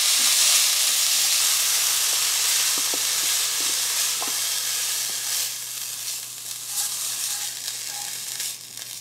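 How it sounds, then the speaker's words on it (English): Lean ground beef frying loudly in a lightly oiled pan, a steady close sizzle with occasional stirring scrapes and no talking. "I'm gonna cook up the ground beef"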